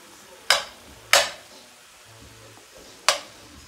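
A potato filling with herbs goes into a hot pan, and three sharp, close scraping or stirring hits sound over a faint sizzle.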